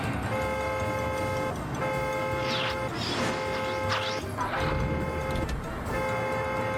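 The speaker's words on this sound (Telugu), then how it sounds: "హార్న్ ఇంత సౌండ్గా మోగిస్తారేంటి?" A vehicle horn blares repeatedly in cartoon traffic, long steady loud blasts with short gaps between them, overlaid by a character shouting and busy street noise.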